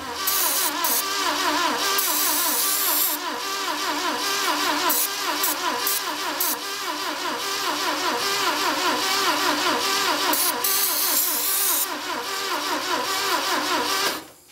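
A Saab Sonett engine, unstarted for 20 years, running loud and close with a rough, rapid mechanical chatter that holds steady throughout, with no voices.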